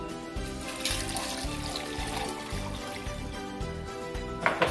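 Water poured into a blender for mango lassi, a steady trickling pour heard near and moderately quiet, ending with a brief splash.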